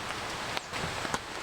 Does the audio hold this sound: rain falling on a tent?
yes